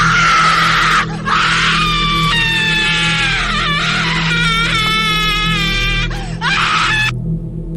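A woman screams loudly and shrilly in a haunted fort, with repeated piercing, wavering shrieks and wails over a low ominous drone, then an abrupt stop near the end.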